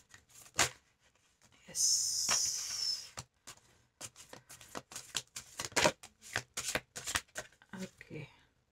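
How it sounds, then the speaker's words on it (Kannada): A deck of cards is shuffled close by in a burst of dense riffling lasting about a second. Sharp flicks and taps of cards being laid down follow, while a person talks over them. "ಕಾರ್ಡ್ ಏನೋ ಶಫಲ್ ಆಗ್ತಾ ಇದೆ ಅನಿಸುತ್ತೆ"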